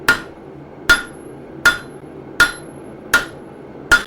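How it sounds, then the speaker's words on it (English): A hammer, likely a cross peen, striking hot steel while a gardening trowel blade is widened and shaped at the forge: six sharp metallic blows in a steady, evenly spaced rhythm, close and loud, with no talk. "I do not like this hammer. I need a better hammer, or a better cross peen."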